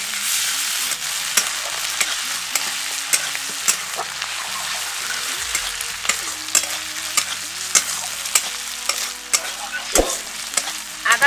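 Ginger paste is stirred into onions frying in oil for aloo do pyaza: a steady sizzle with repeated scraping stir strokes throughout, close and fairly loud, with no talking.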